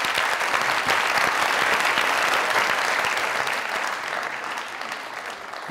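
Studio audience at a Pakistani comedy talk show breaking into sustained applause, a dense steady patter of many hands clapping that stays loud and close before easing slightly toward the end.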